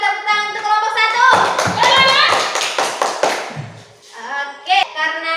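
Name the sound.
students clapping applause for a group in class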